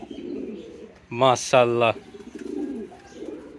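Two large Bombay pigeons calling near the microphone in a pair of loud, rolling coos back to back, with a voice speaking briefly over the quieter stretches before and after.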